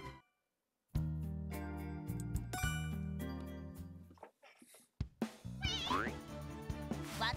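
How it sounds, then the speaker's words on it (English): A cartoonish raccoon creature in the video game Genjitsu no Yohane: NUMAZU in the MIRAGE gives meow-like calls over bright chiming, tinkling game music, with a brief silent gap before the music starts. "That's not a kitty. It's a raccoon."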